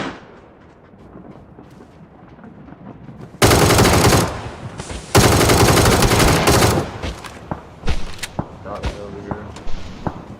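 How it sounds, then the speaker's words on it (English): Gunfire in the PUBG video game: loud sustained bursts of automatic fire in the middle, followed by scattered sharper single shots, with a quieter ambient stretch at the start. "do you not hear these gunshots or their smoke grenade?"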